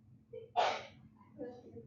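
A single sharp sneeze bursts out in a quiet room, followed by soft breathing.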